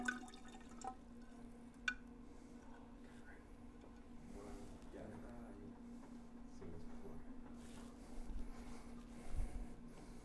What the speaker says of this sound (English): to this 50 milliliters of canola oil, I'm going to add 50 milliliters of H2O liquid